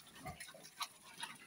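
Fattening pigs grunt in a farm pen in short, faint, low snorts with a little background rustle.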